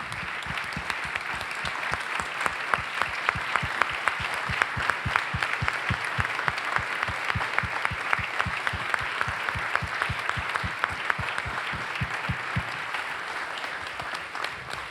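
Sustained applause from a conference audience greeting a group of emerging leaders at a policy dialogue event, dense steady clapping from many hands filling the hall evenly without pause.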